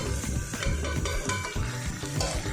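Fried soya chunks stirred into sizzling biryani masala in a pan, rapid scraping stirs and clinks over a constant close fry.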